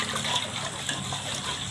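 Water poured into a goat feed mixture of tofu pulp and salt, a steady close gush that runs without a break and has no talk over it.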